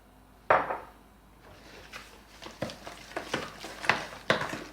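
A spoon stirring mayonnaise, yogurt and oil together in a bowl, starting with one sharp clink followed by a series of light, irregular scraping and tapping strokes against the dish, close and fairly quiet.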